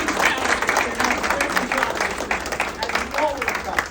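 Applause from an audience for Senator Marty Goldman at the opening ceremony of Marko Kepi's office, a steady dense clapping throughout with a crowd murmur and some voices mixed in.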